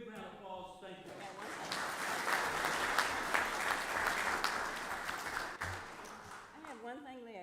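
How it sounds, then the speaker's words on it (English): Audience applause at a city Board of Mayor and Aldermen meeting, a sustained even wash of many hands clapping at moderate distance, fading out as a voice begins speaking at the very end. "So, big round of applause, thank you."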